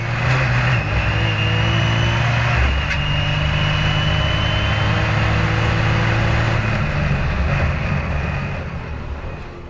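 A race car engine drones loud and steady on a fast lap at the Super Lap Battle, run on a mid to high power map, its pitch shifting a little as it holds speed before easing off near the end.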